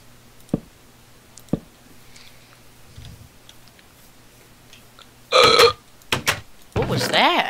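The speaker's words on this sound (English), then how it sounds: "That was like a weird burp thing." A short, odd burp sounds out between bursts of casual talk, one brief croaking eructation close to the microphone, with people chatting and reacting around it.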